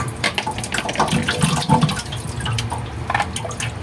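Water runs and bubbles steadily, close and moderately loud, while a fruit and vegetable salad is being prepared, with small drips and splashes scattered through the flow and no voices.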